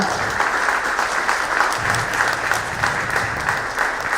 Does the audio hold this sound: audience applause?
yes